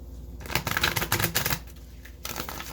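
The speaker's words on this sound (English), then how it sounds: "One more shuffle." Crisp riffling and clacking of playing cards being shuffled up close, a rapid flutter of snaps that pauses briefly and resumes.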